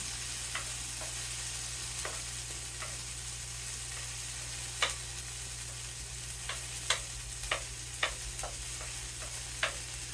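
Food heating through in a pan for a roasted poblano and potato quiche, giving a steady soft sizzle with scattered light pops and crackles, close and fairly quiet, with no talking.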